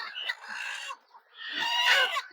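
Hens cluck in a poultry shed where free-range country hens sit on eggs, giving two bursts of close, nasal vocalising separated by a brief pause.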